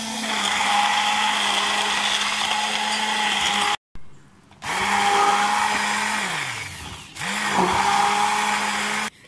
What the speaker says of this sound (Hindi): अब हम इन तमाम चीज़ों को अच्छी तरह से हम ब्लेंड कर लेंगे।